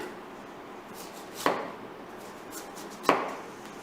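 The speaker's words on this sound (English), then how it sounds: "So first of all, we salt the cabbage. We trim any excess core." Two sharp knife chops about a second and a half apart as a blade trims the core from a cabbage being prepared for kimchi, close and crisp over quiet room tone.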